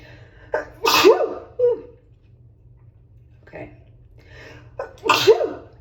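Two sharp sneezes come a few seconds apart, each preceded by a quick breath, close and loud over a low background hum.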